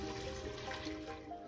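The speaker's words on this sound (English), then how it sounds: "And then I'm gonna cover it with some water and a little salt." Water runs steadily into a pot holding waxy golden potatoes, a continuous soft splashing and gurgling stream, faint and close, with no talk over it.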